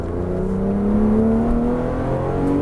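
A Porsche GT3 race car engine accelerates steadily on a racing circuit, its pitch rising smoothly as it revs up, heard from inside or close by.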